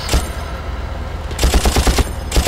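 Carbine rifle fire in Far Cry, styled on an M4, cracks out in loud, close bursts: a short volley at the start, then a rapid string of shots after a pause, and another burst at the end.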